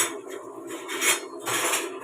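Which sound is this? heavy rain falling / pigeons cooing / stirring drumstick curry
stirring drumstick curry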